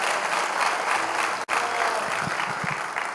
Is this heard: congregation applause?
yes